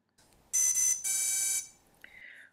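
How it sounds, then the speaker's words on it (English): A loud electronic beeping tone from drone electronic speed controllers during calibration, in two long bursts, followed by a fainter, shorter beep; no talking. "Now hit stop to start calibrating the ESC and the ESCs will beep again."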